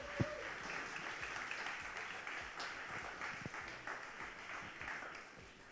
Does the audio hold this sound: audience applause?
yes